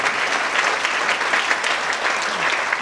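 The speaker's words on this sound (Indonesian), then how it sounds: "Berikan tepuk tangan yang lebih baik bagi Tuhan." A church congregation applauds together at a GBI service, a dense, steady wash of clapping that stays loud and even throughout, with no talk over it.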